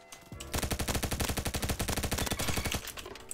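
Rapid automatic gunfire in the video game Bad Business: one sustained burst of evenly spaced, loud shots lasting over two seconds, then a quick stop.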